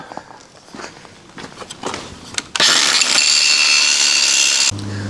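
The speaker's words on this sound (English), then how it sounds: "now I've switched back to a grinding wheel, and I'm going to smooth it up" A grinding wheel smooths a metal surface while a landscape rake stand is being built, starting with clattering handling sounds, then a loud, steady high-pitched grind held close for about two seconds before cutting to a lower hum.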